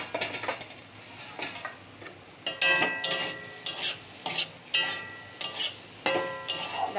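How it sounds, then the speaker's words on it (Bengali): Okra and potato fry with garlic in a pan, quiet sizzling broken by sharp scraping and clinking strokes of a spatula against the pan, close and without voices. "এই যে এখন ঢাকাটা খুলে একটু নেড়ে দেব।"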